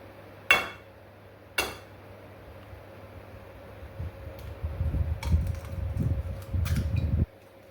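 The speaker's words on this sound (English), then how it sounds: "crack one egg into a saucepan" Two sharp taps of an egg cracking against a saucepan ring out close by, followed by softer clinks and a low splattering rustle as the egg drops in, over a steady fan hum.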